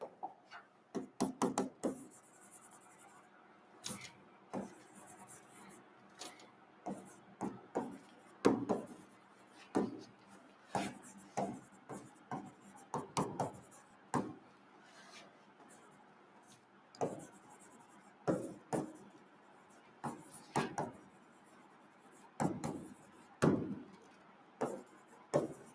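Chalk or marker writing on a board during a physics class, quiet scratchy strokes arriving in short bursts with pauses between them, faint and fairly close.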